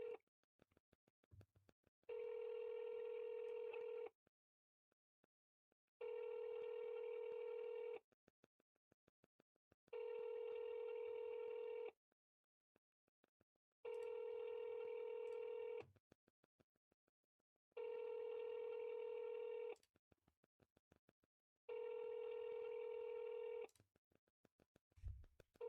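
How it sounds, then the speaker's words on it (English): A telephone call on speakerphone: a steady electronic ringing tone repeats six times in even bursts of about two seconds with silent gaps, slightly tinny and clear, with no talk over it. "We're calling them now. We'll put them on speaker."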